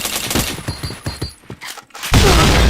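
Rapid gunfire in a multiplayer shooter game, a run of sharp shots in quick bursts followed by a loud sustained blast of noise at the end, with faint voices in the background.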